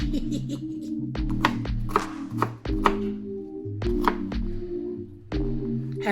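A knife roughly chopping vegetables on a cutting board for a baked chicken wings dish: a series of crisp, close thunks in uneven bursts, with steady background music underneath.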